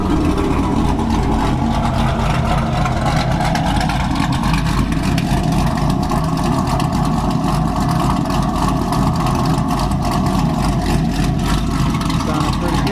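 A car engine runs loud and close without a break, a steady low rumble whose pitch rises and falls as it revs.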